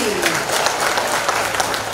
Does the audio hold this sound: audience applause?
yes